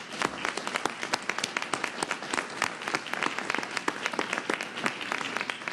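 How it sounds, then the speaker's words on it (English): An audience at an academic symposium claps steadily after a talk, a dense, even round of applause from a roomful of people sustained throughout with no talking over it. "Please join me for one last round of applause for Dr. Outterson."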